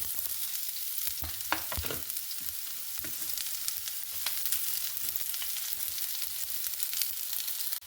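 Mustard seeds and chopped shallots sizzling in hot oil for an Angamaly-style ash gourd milk curry, a continuous bright crackling hiss with a few sharp pops early on.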